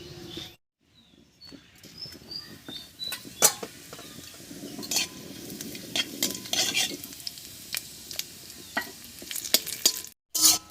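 Whole cumin seeds and a bay leaf crackle and sizzle in hot oil while a utensil scrapes and clinks against the pan at irregular intervals, close and moderately loud.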